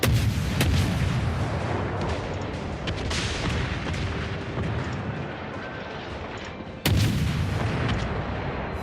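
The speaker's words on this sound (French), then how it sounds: "J'en tire avec les batteries derrière aussi" Naval artillery thunders in World of Warships: a loud, dense barrage of booming gunfire with rolling echoes, one fresh heavy blast near the end, and no talk.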